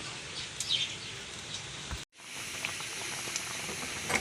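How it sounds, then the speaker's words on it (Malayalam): Kanambu fish curry with coconut milk boils in a pot with a close, steady bubbling hiss that cuts out briefly midway, and there are no voices. "തിളച്ച് പാകാകുമ്പോഴേക്ക് അപ്പുറത്ത് കാച്ചാള ഉള്ളി വെച്ചിട്ടുണ്ട്."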